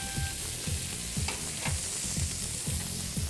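Steak frying in a pan alongside char-grilled carrots, a steady loud sizzle with rhythmic bursts of scraping or stirring about every half second, no talking.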